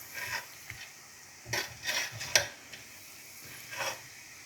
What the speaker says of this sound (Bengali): ঢাকনা তুলে আমি একটু উল্টিয়ে দিচ্ছি।